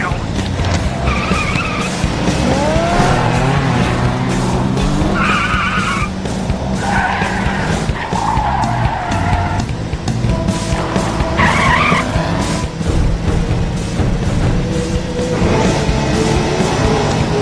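Street race cars, including a Subaru Impreza, skid through a movie race, with tires squealing in long repeated screeches over loud engine roar and dramatic music, close and constant, and brief voices mixed in.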